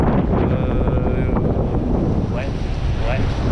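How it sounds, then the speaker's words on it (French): Strong wind buffets the microphone on a hotel beach in Guadeloupe, a dense, steady roar with surf-like rushing that holds at full loudness for the whole stretch without a break. "Là, il y a quand même pas mal de vent."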